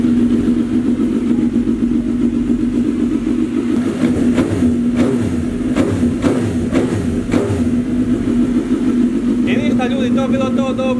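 A motorcycle engine runs steadily in a garage, a continuous mid-pitched hum with a few sharper knocks and a brief rise in revs near the end.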